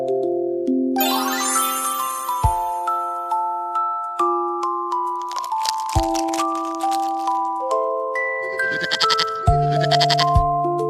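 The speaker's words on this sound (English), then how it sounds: "Goat." A goat bleats among farm animal sounds, a wavering cry over bright tinkling, chiming music that runs throughout.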